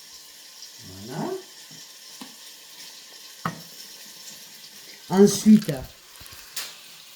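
Lentils sautéing in a little oil in a pan, giving a soft steady sizzle with scrapes as they are stirred and a louder burst of frying near the end; someone speaks briefly over it.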